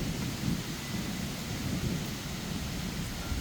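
A thunderstorm with steady rain and low rolling thunder, a continuous even roar of moderate loudness with no voices.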